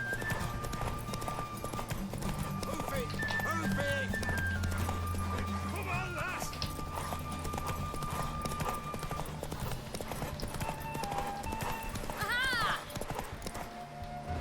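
In The Witcher 3, a horse's galloping hooves drum continuously, with a few whinnies and snorts, under background music and game dialogue.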